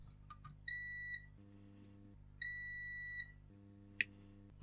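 A multimeter on continuity mode tests the coil of a faulty Anbernic RG350 handheld console, giving two steady, clear beeps of about half a second each, separated by quiet, with a few small clicks around them.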